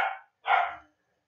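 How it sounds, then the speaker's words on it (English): Two sharp barks from a dog indoors in a quiet room, close and fairly loud, separated by a brief pause and followed by silence. "probably hearing barking there"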